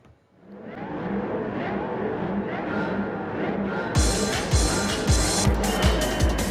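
Race cars in a racing video game at Watkins Glen on the full layout drone and whine steadily, then engines roar up louder with rhythmic thumping gear-shift pulses as the pack accelerates close by.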